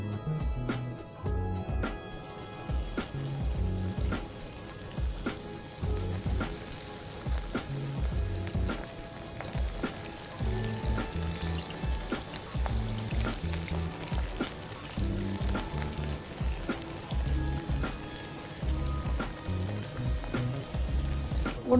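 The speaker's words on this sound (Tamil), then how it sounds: "ஆனியன் ரிங்ஸும் சேர்த்து ப்ரான் கூட போட்டிங்கன்னா ரெண்டுமே உங்களுக்கு வந்து ஃப்ரை ஆகும்" Prawns and onion rings fry in hot oil with a continuous, dense crackling sizzle and bubbling that carries on steadily at moderate volume.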